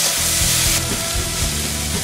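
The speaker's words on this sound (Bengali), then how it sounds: "এবার আমি সবগুলোকে একসাথে ভালো করে মিশিয়ে দিচ্ছি।" Water spinach and dried fish stirred together in a sizzling frying pan, a loud close hiss with scraping stirring strokes throughout.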